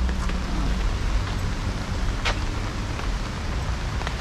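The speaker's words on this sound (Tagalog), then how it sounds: "Umuulan ang paligid." Steady rain falls all around while someone walks outdoors, a dense continuous hiss of drops on surfaces with a few brighter splashes, and no talk.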